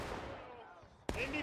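A single sharp musket volley cracks out at moderate distance in the Civil War battle game War of Rights on the Roulette Lane map, breaking in abruptly after a stretch of talking and lingering briefly under continued speech.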